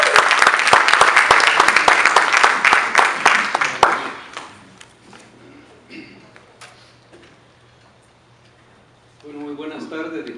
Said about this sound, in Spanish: recibir con un fuerte aplauso